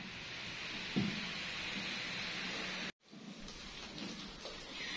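Steady heavy rain pours throughout a storm sound effect, a dense even hiss with a low thud of thunder early on, broken by a brief cut of near silence before the downpour resumes.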